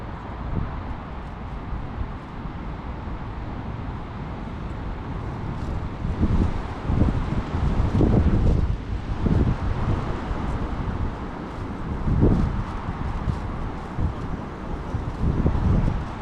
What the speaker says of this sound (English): That's the wind, I think.